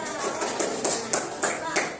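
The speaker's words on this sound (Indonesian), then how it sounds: "Oke, tepuk tangan." Students in a Sundanese-language class at a vocational high school clap together, giving a short burst of brisk, fairly regular claps with voices mixed in.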